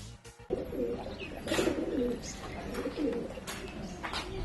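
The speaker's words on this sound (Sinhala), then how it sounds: "ගොඩක් පරණ පරවියොත් ඉන්නවා" Pigeons coo at old pigeon lofts, soft repeated calls rising and falling over a steady outdoor background for several seconds.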